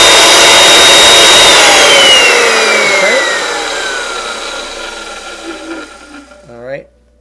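A vintage Rockwell Model 346 circular saw motor whining loudly up close and then spinning down, its pitch falling gradually until it stops near the end.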